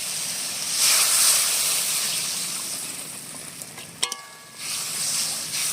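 Hot water poured into a frying spice paste for a vegetarian egg-style curry, a loud steamy hiss and sizzle swelling up, then a sharp metallic clink and a renewed burst of sizzling, close by with no talk.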